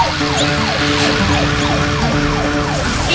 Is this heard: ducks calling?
no